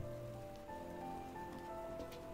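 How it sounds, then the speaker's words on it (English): Rain falls steadily in the Night in the Woods game, a dense close patter on surfaces with no other sounds over it. "It's wet again, and I'm cold again. It's just rain."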